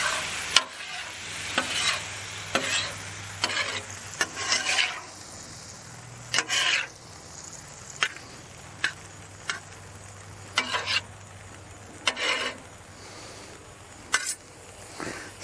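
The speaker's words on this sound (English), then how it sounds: "got the meat and the veggies cooking here" Beef and vegetables stir-frying on a hot griddle, a steady sizzle broken by repeated scraping and tossing strokes from a spatula at irregular intervals, close and moderately loud with no talking.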